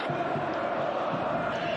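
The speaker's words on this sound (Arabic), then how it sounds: "هذه هي الجماهير الرجوية" Raja Casablanca supporters fill a football stadium with a dense, continuous roar of chanting and cheering, steady and loud throughout without a break.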